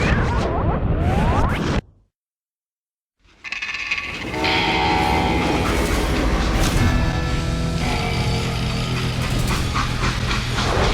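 A train in the video game Call of Juarez: Gunslinger rumbles loudly, cuts to a brief silence, then returns with a roaring, clattering passage and a sustained horn-like tone.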